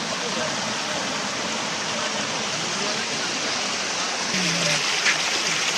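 Water flows from a lake into a channel where fish are netted, making a loud, even roar that stays steady and close throughout, with a faint short tone late on.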